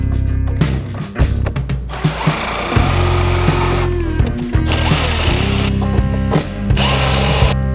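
An impact drill fitted with a 14mm socket backs bolts out of the top of a wooden crate, in repeated loud ratcheting bursts separated by short pauses, close by and with no talking.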